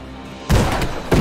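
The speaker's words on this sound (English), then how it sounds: "Our musket is trying to fire" Musket and cannon fire in the airship battle game Airships: Conquer the Skies: a quiet ambient start, then a loud, close boom bursts in and rumbles on, followed by another sharp report.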